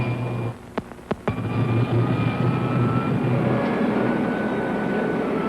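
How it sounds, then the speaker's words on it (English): Rocket ship pilot jet firing in an old science-fiction serial, a few sharp bangs followed by a loud, sustained roaring rush that holds steady to the end. "Fire pilot jet. Fire pilot jet."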